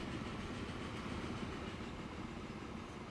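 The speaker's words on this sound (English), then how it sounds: "Watch it, our new train come out." A train pulls out of a station in the video game Transport Fever 2 with a steady, faint rolling rumble and rhythmic clatter of wheels on rails, heard alone.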